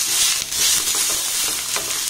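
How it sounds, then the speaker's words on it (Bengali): Chopped onion and three or four green chilies are stir-fried in a pan, making a bright, continuous crackling sizzle with brief stirring swishes, close and clear with no voices. "এবার লঙ্কা আর পেঁয়াজটাকে একটু নাড়াচাড়া করে ভেজে নেব।"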